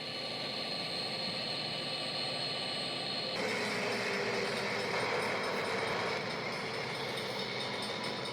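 A freight train with Santa Fe cars and white covered hoppers rolls past, a steady distant rumble and rail noise that swells broader and louder partway through, with no voices.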